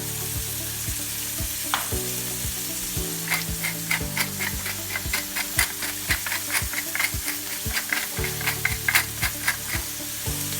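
Veal chunks sear steadily in a hot stew pot, with a continuous loud sizzle and a run of sharp metallic clinks and scrapes from a utensil against the pot, close up and without talk.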